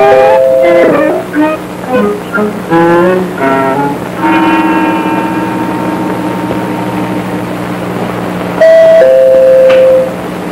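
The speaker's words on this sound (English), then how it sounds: "from the way you rang the bell and banged on the door, I thought you were a peddler." A household doorbell rung repeatedly in an old telephone company training film, bright two-tone chimes striking several times in quick succession, then a sustained ring and a final chime after a pause, loud and close over a low hum.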